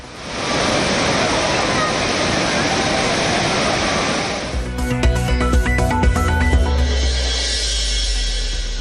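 Thirparappu waterfall pouring steadily as tourists bathe, a loud continuous rushing roar of water that carries on throughout, with a brief shift in texture and tone partway.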